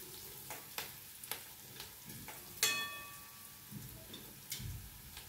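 Finely chopped carrots for upma sautéing in a pan, a quiet, steady sizzle broken by a few sharp clinks and scrapes of a spoon against metal, no voices.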